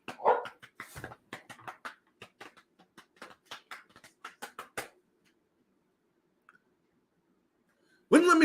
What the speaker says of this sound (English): It's just the dog that is incredibly excited.